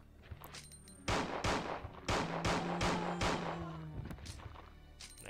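Revolver shots at zombies in Resident Evil 2, with four loud, heavy blasts spaced about a second apart and a ringing tail after each, then quieter clanks of handling.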